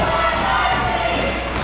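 A wrestling crowd at a stunt-studio fight club roars and cheers loudly in a dense, continuous wall of noise, with a commentator's voice mixed in.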